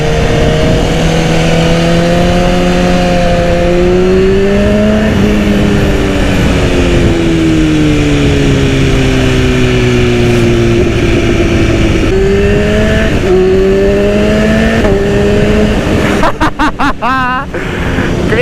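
A 2010 BMW S1000RR motorcycle accelerating on the road, its engine note rising and falling through several gear changes in a loud, steady drone, with rushing wind underneath and a brief burst of mechanical clatter near the end.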